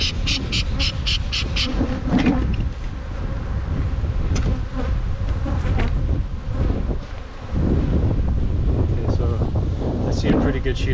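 Honeybees buzz densely around an open hive being worked for brood, a close, continuous droning hum with wind rumble on the microphone and some quiet talk.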